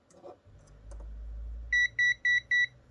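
Multimeter emitting four short, evenly spaced electronic beeps during low-voltage AC output testing, following a low hum and a couple of faint clicks, close and clear with no talk.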